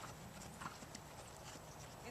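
Horse hooves clip-clopping at a steady trot, a soft continuous patter of footfalls at low level with faint background noise, heard alone without talk.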